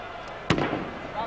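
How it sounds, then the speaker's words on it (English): A single sharp firecracker pop, set off by Spanish Valencia fans in a stadium crowd at the 1980 Cup Winners' Cup final, rings out over a commentator's voice and background crowd noise. "A few firecrackers still exploding around us from the Spanish fans"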